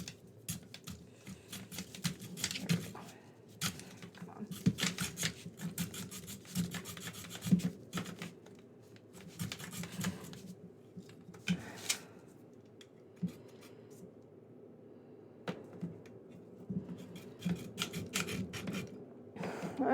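Hacksaw cutting through a plastic doll body during a body modification, giving a steady rasping scrape with uneven strokes and short pauses, close and moderately loud with no talking.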